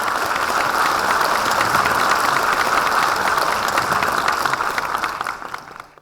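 Sustained audience applause at a Dongguk University ceremony marking the founding anniversary of its development committee, as a senior monk is invited to the stage to present scholarships; dense, steady clapping from a large crowd that fades out at the end.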